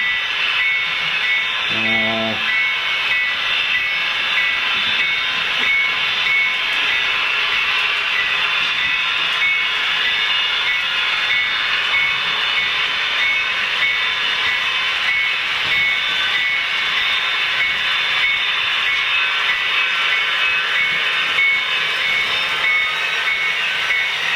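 A BNSF model locomotive runs along a layout with a steady, close rolling whir and hum, one brief clatter near the start, and no talk.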